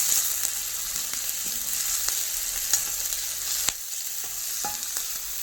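Cashews fry in a pan for gravy, a steady soft sizzle with intermittent scrapes and clicks of stirring, close and alone.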